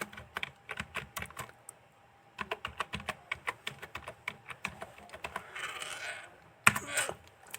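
Keys clack on a computer keyboard as a place name is typed into a mapping search box, a quick run of crisp taps in bursts with short pauses, close and clear with no talk.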